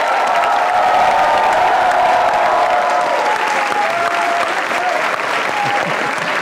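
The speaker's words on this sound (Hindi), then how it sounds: "आपकी भरपूर तालियों में मुनव्वर मकसूद" Loud, sustained applause with some cheering from a studio audience on a comedy show as a guest is introduced, dense clapping running continuously throughout.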